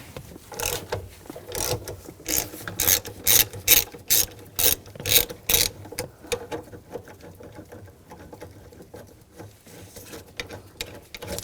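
Ratchet wrench with a T50 socket turning out a bolt on a 2007-2013 BMW X5 3.0L L6, a close series of rapid clicking bursts in a steady rhythm, then quieter scattered clicks.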